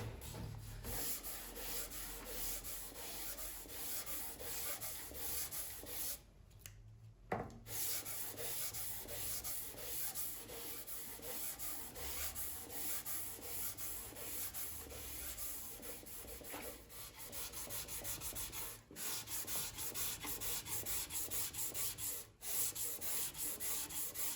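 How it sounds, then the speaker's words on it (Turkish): Steady, continuous rasping of 80-grit sandpaper on the wooden neck of a saz, a dense scratchy texture that runs without pause apart from one brief break. "Bu kolumuza 80 numara zımpara takacağız."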